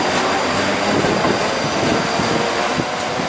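Class 334 electric multiple units at Dalmuir station, coupled as a two-unit train, make a loud, steady rumble of wheels and motors close by, with faint squealing and no speech.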